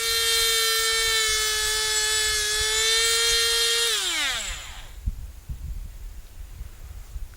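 A power drill bores into a tree trunk to fit a sap flow meter, giving a steady, close, high whine that then winds down and stops, leaving a quiet background.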